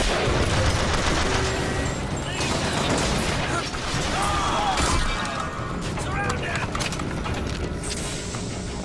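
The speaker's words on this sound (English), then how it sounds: "Watch out, rockets!" Rocket blasts and heavy combat from Bioshock Infinite crash and rumble continuously, with sharp impacts and gunfire layered into a loud, busy mix; a voice talks over parts of it.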